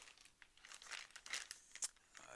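A plastic parts bag from a Traxxas TRX4 Sport unassembled RC kit crinkles and rustles in quick, irregular bursts, close but quiet, with no talking.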